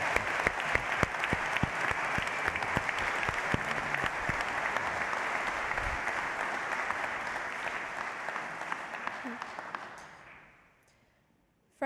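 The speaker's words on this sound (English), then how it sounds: "another round of applause here." Sustained applause fills an Army ROTC commissioning ceremony, a large audience clapping loudly and steadily for about ten seconds before fading out to near silence.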